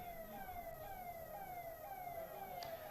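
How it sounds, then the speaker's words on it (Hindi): A faint, distant ambulance siren wails in repeated falling sweeps over a low background hum, with no voices. "भैया ये एम्बुलेंस है क्या?"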